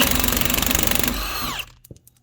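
A Milwaukee impact gun hammers loudly and rapidly on a car's track rod end nut, a dense close rattle for over a second before it stops abruptly, followed by a few faint clinks.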